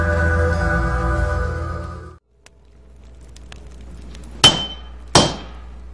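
A katana blade hammered at a traditional forge: a loud droning hum cuts off, then after a quiet pause come two sharp, ringing metallic strikes about a second apart.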